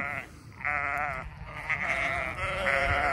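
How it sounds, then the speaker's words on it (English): Several sheep bleat loudly in a field, their calls overlapping in a near continuous chorus over a low rumble, with no talking. "Here, sheep, sheep, sheep."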